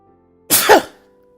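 A single sharp sneeze bursts out close and loud after a near-silent pause, then fades quickly.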